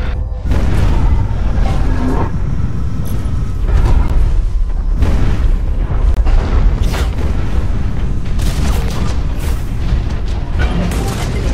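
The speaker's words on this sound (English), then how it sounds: "I started shooting." Continuous loud gunfire and heavy booming explosions from mech combat in the free-to-play shooter Hawken, dense and unbroken throughout.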